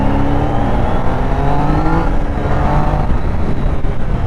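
Triumph Daytona 660 motorcycle engine revving toward its high limit: a loud, continuous, close engine drone with rising and falling pitch and no talking over it.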